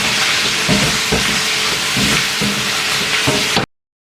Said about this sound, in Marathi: तर त्याला कांदा वगैरे फ्राय करून घेतो